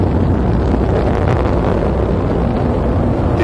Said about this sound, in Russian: Двигатели первой и второй ступени работают нормально.